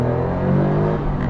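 A small Smart Roadster engine, car weighing just over 800 kilos with an automated gearbox, revs hard under full throttle from inside the cabin, a rising, strained tone for about a second and no voices.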